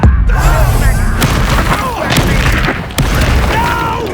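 Spell blasts from the Expelliarmus charm in the Hogwarts Legacy video game, loud booming impacts over layered game effects and music, with a voice speaking through parts of it.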